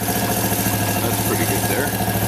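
A Suzuki quad engine idling low, a steady close rumble with an even throbbing pulse.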